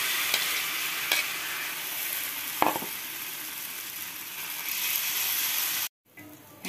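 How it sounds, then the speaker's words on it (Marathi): Dosa batter spread on an oiled griddle gives a loud, steady hiss with a few sharp clicks, then cuts off abruptly near the end. "आपण तव्यावर थोडस तेल टाकूया आणि आपण डोसा टाकून घेऊया"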